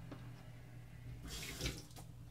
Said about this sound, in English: you want to run it in under hot water before you shave